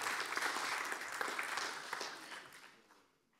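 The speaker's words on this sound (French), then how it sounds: "Vous pouvez l'applaudir encore une autre fois" Audience applause at a panel discussion on African diasporas and public policy, a steady wash of many hands clapping from a crowd that fades out over a few seconds.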